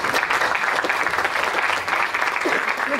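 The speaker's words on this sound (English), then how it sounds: "Can I invite you to give our two speakers a huge round of applause?" Conference audience at a sports law event's closing ceremony applauding, a steady dense wash of clapping from a large crowd, loud and sustained throughout.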